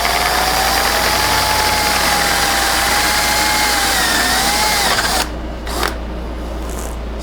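A drill bores through wood with a steady, loud, close whine and grinding hum, then cuts off abruptly, leaving a quieter hum.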